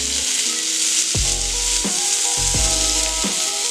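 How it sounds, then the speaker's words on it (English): Potatoes tumble into a hot pan with butter and fry with a loud, steady sizzle, broken by a few knocking thumps as they are pushed around. "now what we're going to do is add our potatoes. We're just going to dump all of that in there"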